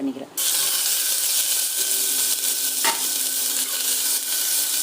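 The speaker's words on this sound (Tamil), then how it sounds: "ஆயில் ஊற்றிக்கிறேன். நான் பட்டை, லவங்கம், சீரகம் இதெல்லாம் ஆட் பண்ணிக்கிறேன்." Cinnamon, cloves and cumin seeds hitting hot oil in a pan for a tomato kurma, an abrupt close sizzle starting almost at once and continuing as a steady hiss with a brief stir or clatter midway.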